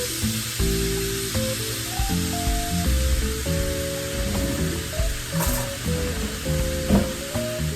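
Frozen raspberries from a 12-ounce bag are stirred around in a hot pan, giving a steady sizzle with occasional spatula scrapes, partly masked by melodic background music throughout.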